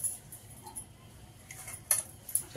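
Spoon mixing a chicken dum biryani marinade in a bowl, with light scraping and a few sharp clinks of metal against the dish near the end, close and fairly quiet.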